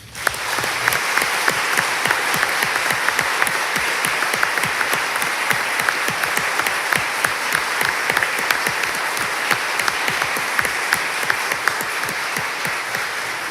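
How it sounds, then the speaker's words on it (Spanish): An audience at a Supreme Court swearing-in ceremony applauds newly sworn-in lawyers, with steady, dense clapping from a large crowd that holds at an even level for over ten seconds, and no one speaks over it. "Aplaudamos este logro."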